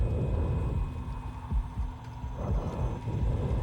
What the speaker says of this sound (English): the breathing and the heartbeat is specifically coming from this corner where the bed is